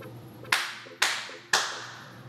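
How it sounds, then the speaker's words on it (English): Three single hand claps at an even pace, each sharp and close, followed by a long reverberant tail that fades in the room before the next clap. "Notice the reverb surrounding those claps."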